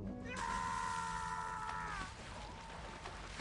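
A game character in Uncharted: Drake's Fortune lets out a sustained, loud wavering scream lasting about two seconds, then it cuts off and leaves quieter game ambience and water-like noise.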